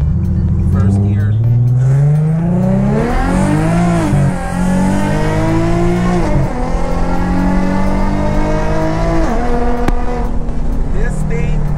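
Infiniti G37 sedan fitted with ISR long tube headers and a loud exhaust pulls hard from first gear, its engine note climbing and dropping through several rising sweeps as it upshifts, loud and close throughout.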